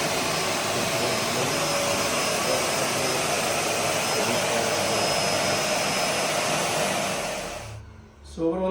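A Hoover Power Pro 2300 W vacuum cleaner running in blower mode, a loud, steady high-pitched whoosh and motor whine held close for several seconds before cutting off abruptly near the end.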